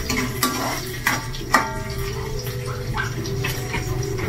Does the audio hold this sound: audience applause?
no